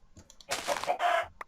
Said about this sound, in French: C'est marrant comme les poulets ont trop pas de vie.